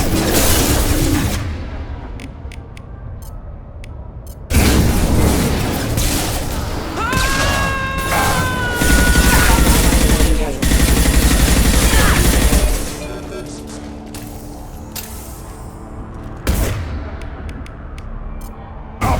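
Gunfire in the Mass Effect 2 video game: loud, dense bursts of shots and impacts rage almost without pause, with shouting voices mixed in.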